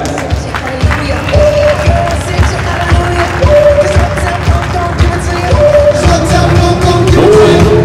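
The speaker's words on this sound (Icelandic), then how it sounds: "Já, það er að klappa fyrir þessum gæja." Crowd at an Icelandic horse show applauding the stallion Kjerúlf frá Kollaleiru, steady loud clapping from many hands, with hoofbeats and a voice speaking over it.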